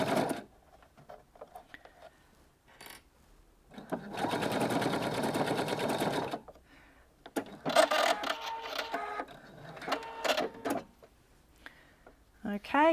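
A sewing machine stitches a blind hem on fabric scraps in short bursts of rapid mechanical whirring, with quieter handling noises and a voice talking between runs.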